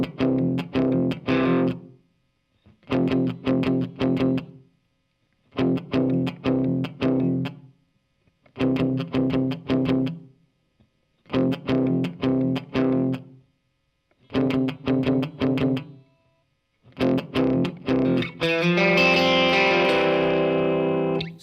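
Electric guitar with distortion and chorus effects plays a worship song lick, repeating short strummed bursts separated by brief gaps and closing on a long ringing, shimmering chord.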